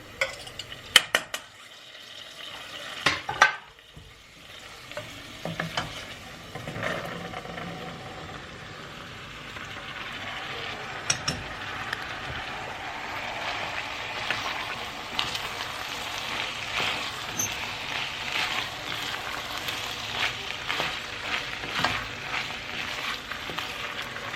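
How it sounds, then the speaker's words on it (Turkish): Garlic frying in a pan, a steady soft sizzle that grows fuller over time, with clinks and scrapes of a utensil stirring near the start and intermittent small pops throughout. "Sarımsağı koyuyorum biraz kokusu çıksın"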